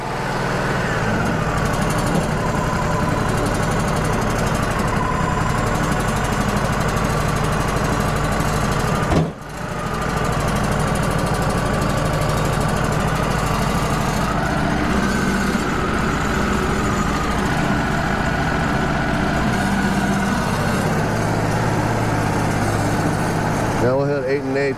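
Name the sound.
Wood-Mizer LT35 sawmill cutting a burr oak beam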